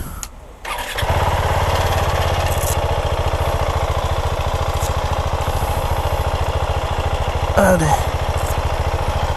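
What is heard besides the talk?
Husqvarna Vitpilen 701 motorcycle engine riding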